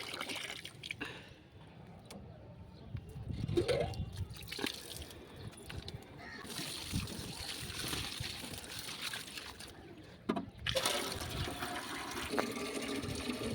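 Water poured onto a potted plant during hot weather, a continuous close splashing and trickling with gurgles and shifting intensity. A few brief louder knocks interrupt the flow.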